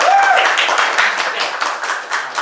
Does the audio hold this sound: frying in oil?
no